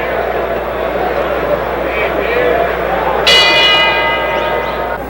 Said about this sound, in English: The bell for round 4.